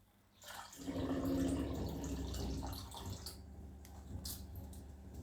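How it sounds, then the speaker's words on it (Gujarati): Water pours steadily into 1 cup of millet flour for Gujarati bhaidku, a broad continuous splashing stream that starts abruptly, swells loud for a few seconds, then settles into a softer trickle, close and without talk. "તો આપણે 3 કપ પાણી નાખ્યું છે"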